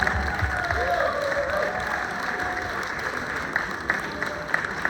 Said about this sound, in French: Applaudissements pour notre grand gagnant ce soir.